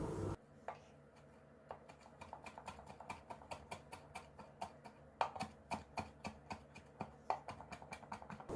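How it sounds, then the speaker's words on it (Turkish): A knife chops dill rapidly and steadily on a cutting board, close by, with sharp evenly spaced taps continuing without pause. "Sıra dereotlarımızı doğramaya geldi."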